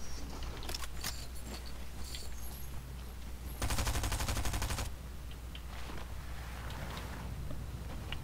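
Rapid automatic fire from a machine pistol in the Fortnite video game, a dense burst of roughly a second standing out loudly over steady game background noise.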